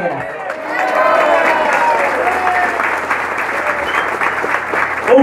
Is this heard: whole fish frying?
no